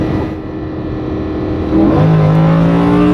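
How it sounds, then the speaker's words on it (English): Lamborghini Huracan engine blipping on a quick downshift while building speed, a steady loud drone that jumps abruptly into a higher, rising rev partway through, heard close with no talking. "this thing downshifts like a Lambo, dude"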